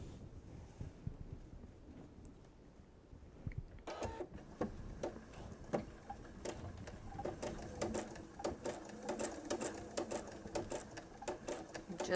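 A sewing machine stitches binding onto a strip-pieced kitchen set, with the fabric edge and binding edge held together. It runs in a steady, fairly faint rattle for most of the stretch, with quiet handling sounds at the start.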